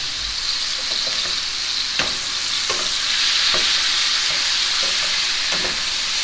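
Pork pieces browning in a frying pan for chili colorado, a steady close sizzle with periodic scraping stir strokes about every second, no voices.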